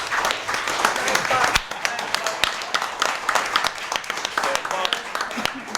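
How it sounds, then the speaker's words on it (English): Scattered clapping from a crowd at a Uniontown city council meeting, a patter of hands that stays moderate and uneven throughout with some voices mixed in. "if you could give him another quick round of applause"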